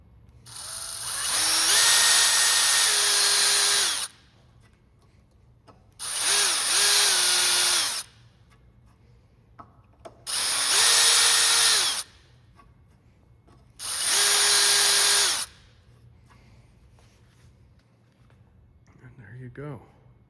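A Dremel with a cone bit drills holes in a carbon rowing rigger, four loud high-pitched whirring bursts of about two seconds each separated by short pauses, close to the listener.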